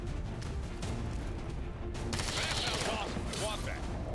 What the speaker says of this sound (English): Shoot him with your pistol.